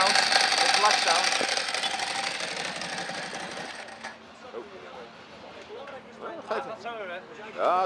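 A 2005 Ducati Multistrada 1000 DS engine running, loud at first with a broad mechanical roar that fades after a few seconds, followed by quieter background noise and voices.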